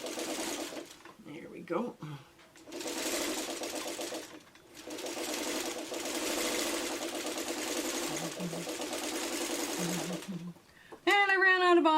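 Domestic sewing machine stitching quilt pieces for an elongated Dresden plate block, a steady whirring run broken by short pauses, with someone speaking briefly and a high squeaky sound near the end.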